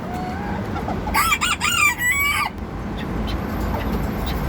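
A rooster, a bantam chicken, crows once loudly and close by, a single drawn-out cock-a-doodle-doo over steady outdoor background noise.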